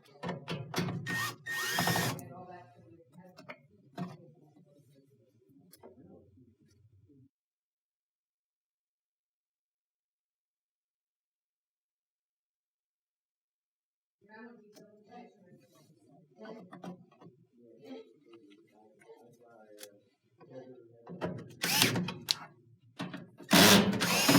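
A power driver whirs in short bursts while backing quarter-inch screws out of a clothes dryer panel, with a long quiet gap in the middle and louder, rattly bursts near the end.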